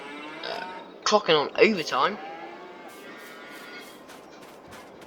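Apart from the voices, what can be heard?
cattle mooing in Farming Simulator 22 video game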